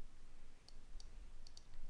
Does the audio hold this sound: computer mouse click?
yes